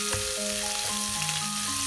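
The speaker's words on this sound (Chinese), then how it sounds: "加点蒜末继续炒香" Minced garlic is stir-fried in a flat pan with a little oil and chili bean paste, giving a soft, steady sizzle with light scraping from stirring, close by and alone.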